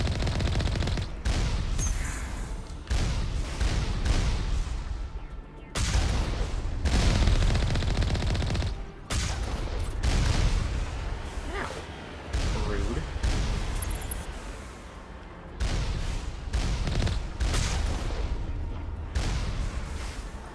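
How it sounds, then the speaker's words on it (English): Turret gunfire in the Mass Effect video game comes as repeated loud bursts of rapid shots separated by short pauses, with a player talking intermittently over the combat. "We can already see that there are a few turrets there. They're shooting at"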